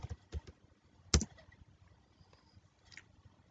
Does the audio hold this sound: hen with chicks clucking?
no